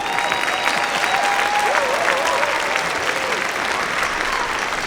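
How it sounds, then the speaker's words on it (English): An audience at a school district band festival applauds, a loud, continuous spread of clapping with some cheering and crowd noise mixed in, holding level from start to finish. "Yeah, sure, you can applaud that."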